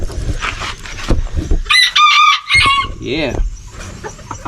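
Homestead chickens cluck close by while a rooster crows, with clear rising and falling calls, over a brief spoken word and background farmyard clatter.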